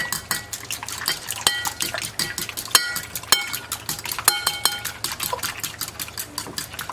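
Two eggs are beaten for fried green tomato batter, a utensil clinking quickly and repeatedly against the bowl in an uneven rhythm, close and clear.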